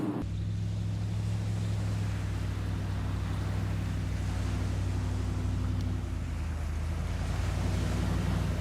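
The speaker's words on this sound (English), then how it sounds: "just enjoy the sights and sounds of the ocean." Ocean waves wash steadily onto a winter beach, a continuous broad roar with a low rumble underneath and no voices.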